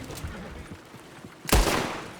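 A single loud gunshot burst from Red Dead Redemption 2 in a Saint Denis street shootout cuts in near the end, following quieter ambient game sounds and distant rumble.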